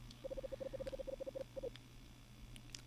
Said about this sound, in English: Nora's phone buzzes